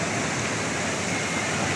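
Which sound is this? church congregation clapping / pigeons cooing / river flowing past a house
river flowing past a house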